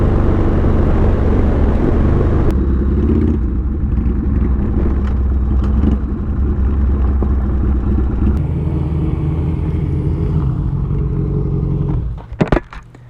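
A Buell motorcycle engine runs during a ride, a loud, steady low rumble mixed with wind noise that holds for about twelve seconds before dropping away sharply at the end.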